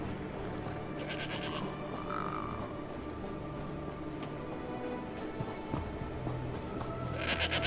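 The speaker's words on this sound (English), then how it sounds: "Fuck you, sheep. Or goat." A sheep or goat bleats in Elder Scrolls Online, with a few faint calls over a steady game ambience and low background drone.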